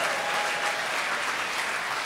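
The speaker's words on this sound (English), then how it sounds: "give a round of applause for everybody I just fucking slagged off" Audience at a live comedy show at Mandela Hall applauding steadily, a dense, even wash of clapping that holds at full strength without any voices.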